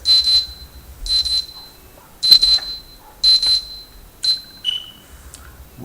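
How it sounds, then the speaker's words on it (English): A timer alarm goes off during a live math lesson, sounding as a run of loud, piercing electronic beeps in repeated bursts with short gaps, close to the microphone and with no talk over it. "that looks like that was my timer"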